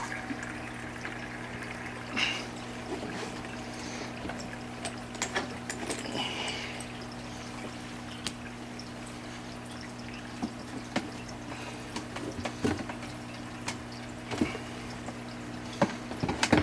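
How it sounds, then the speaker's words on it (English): Water is siphoned out of an aquarium tank with the return pump off, giving a faint trickle and scattered drips and splashes over a steady low equipment hum, close by with no talking. "start my siphoning of pulling water out"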